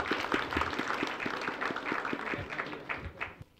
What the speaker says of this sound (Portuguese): vamos dar uma salva de palmas para acolher a Iraci